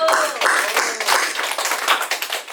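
A church congregation bursts into applause during a sermon on the Ten Commandments, a dense, close wash of many hands clapping continuously for a couple of seconds, with no talk over it.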